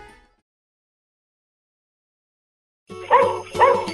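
A remote control robot dog toy barks twice in quick succession, loud and close, after near silence.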